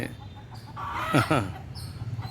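Chickens at a farmyard cluck and let out a sharp, alarmed cry, a brief loud burst rising over a quieter background of murmuring hens, as a cat stalks them.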